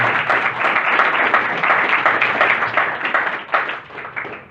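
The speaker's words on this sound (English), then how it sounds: "I just want to give Dave a round of applause for his time." Workshop audience giving the presenter a round of applause: dense, loud, continuous clapping from a roomful of people that stays full throughout and eases off only at the very end.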